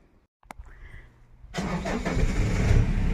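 A car engine cranks and catches after a brief click, then settles into a steady close idle that swells slightly, heard alone in a rural farm setting.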